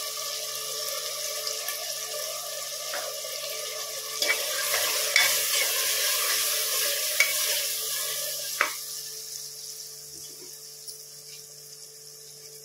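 Onions with a pinch of turmeric are stirred in a pan, a soft continuous sizzle carrying scraping strokes of a spoon, fairly faint and close, with a steady hum underneath.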